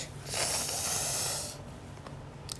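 One long snore, a raspy breathy drawn-in rush lasting just over a second, followed by quieter breathing and a few faint clicks.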